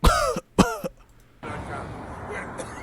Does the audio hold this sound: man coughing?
yes